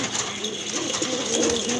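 Grizzle pigeons, a big-sized running pair, cooing in a loft: soft, low, rolling coos repeating over steady background hiss, fairly close, with faint human sounds nearby.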